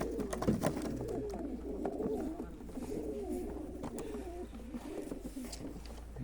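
Pigeons or doves cooing softly in a quiet outdoor setting, repeated low calls with a few faint clicks and rustles.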